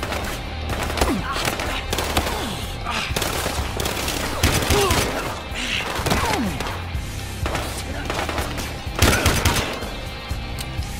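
In Battlefield Hardline, the Sting Ray mission on PS4 Pro, bursts of rapid automatic gunfire and single shots crack repeatedly across the scene, loud and dense, with someone talking and exclaiming over the shooting.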